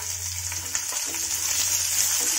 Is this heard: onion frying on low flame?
yes